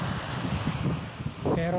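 Wind buffets the microphone with a low, uneven rumble throughout during a motorcycle ride in Cavite, Philippines, and a voice briefly emerges at the end.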